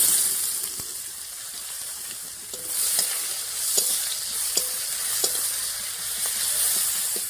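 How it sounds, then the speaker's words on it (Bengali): Chopped onion fries in oil with bay leaf, dried chilli and whole cumin, a steady hiss with a spatula stirring and scraping the pan now and then, close and continuous. "এখন দিয়ে দিচ্ছি পেঁয়াজ কুচি"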